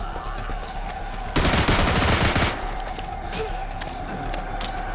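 A loud, dense burst of automatic gunfire with armor-piercing ammunition in Into the Dead 2, lasting about a second over steady background game noise, followed by fainter clicks.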